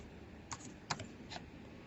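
A few quick keystrokes tapped on a computer keyboard, three light clicks spread over about a second, close and quiet with no talk.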